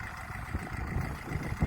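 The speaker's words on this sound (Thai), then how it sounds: "เดี๋ยวต้องรถไถไปนะครับ" A farm tractor idles nearby on a strawberry farm in Germany, a low, steady rumble with a faint uneven throb and no talk.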